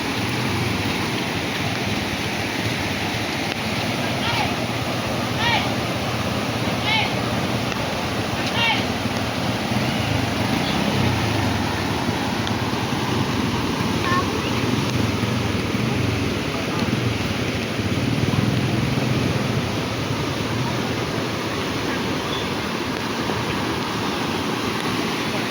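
Rushing water at a nearly full dam, a steady broadband roar that runs continuously and fairly loud throughout, with faint voices now and then beneath it.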